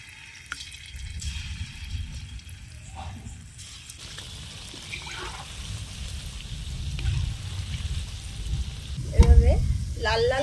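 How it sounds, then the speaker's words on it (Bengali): Palmyra fruit fritter batter drops into hot oil in a kadai, bubbling and sizzling with growing intensity, with scattered utensil knocks and clinks up close. "ফুলুরির ব্যাটারটা একে একে তেলে এই শেপে কেটে দেব।"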